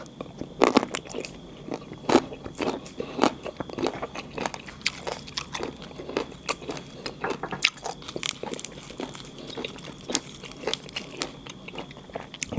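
Someone bites and chews a crunchy Oroxylum indicum (pega) pod close to the microphone, making a steady run of sharp crisp crunches at a brisk, slightly irregular pace. No voices are heard over the chewing.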